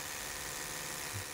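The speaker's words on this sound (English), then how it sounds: "So here's the regular Oral-B." A regular Oral-B electric toothbrush buzzes steadily and fairly loudly, held close to a microphone, with a continuous broadband whir and no talking.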